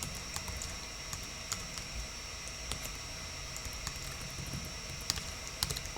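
Steady typing on a computer keyboard while entering HTML tags, with light, irregular key clicks over a constant hiss of background noise, close and fairly quiet throughout.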